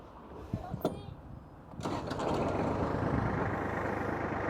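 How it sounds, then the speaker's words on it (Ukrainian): A small diesel engine on a Kubota GL27 mini tractor cranks and catches, then settles into a steady close rumbling idle, with a few faint clicks beforehand. "Давайте заведемо і послухаємо на роботу двигуна"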